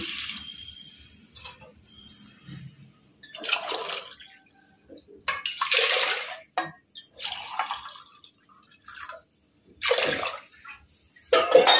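Water is poured from a glass into a pot of dal in several separate splashing pours with short quiet gaps between them, close and fairly soft.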